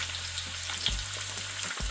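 Onion sizzles and fries steadily in a pan for a short stretch, a close, even crackle with a couple of soft thumps and no voices.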